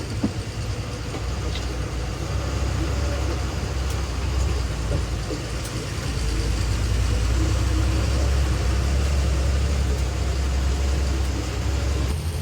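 A weak-powered pickup truck engine labours up a rise on a rough main road, a loud, continuous low drone that thickens slightly partway through, heard from inside with no talking.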